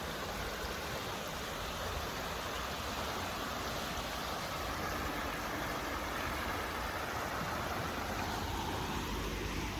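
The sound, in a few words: water flowing in a stream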